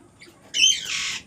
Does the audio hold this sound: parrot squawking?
yes